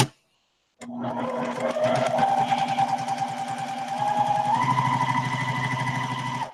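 A straight-stitch sewing machine runs steadily at a 2.5 stitch length, a close, continuous rapid mechanical chatter starting after a short silence and holding for several seconds.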